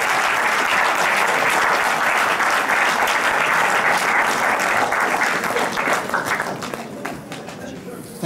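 A crowd at a charity event gives a big round of clapping for two doctors, dense and loud for most of the stretch before tapering off near the end, with some voices mixed in.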